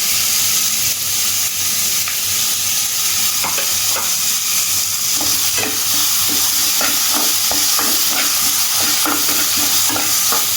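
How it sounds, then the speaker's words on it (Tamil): Onions sauté for dal fry in a loud, steady sizzle, and a spoon scrapes the pan in quick repeated strokes. "வெங்காயம் கொஞ்சம் நல்லா வதங்கட்டும்."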